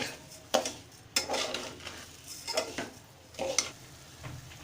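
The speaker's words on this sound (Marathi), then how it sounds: "आता आपण हे मिश्रण सतत ढवळत राहायचं आहे मिश्रण पूर्ण एकजीव होईपर्यंत" Coconut barfi (narlachya vadya) mixture being stirred in a pan, a spoon scraping at irregular intervals with soft sizzling beneath, nearby and moderately quiet, no voices.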